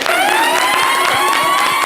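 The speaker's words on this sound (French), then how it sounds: "Applaudissements pour Jojo, s'il vous plaît." Studio audience at a French live entertainment show cheers and applauds loudly for Jojo, a dense steady crowd roar with whistles and shouts running throughout, close and continuous.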